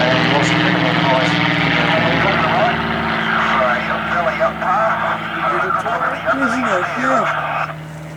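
A CT-4A propeller trainer in an aerobatic display drones loudly overhead, its engine note rising and falling through the rolls, with a commentator talking over it throughout.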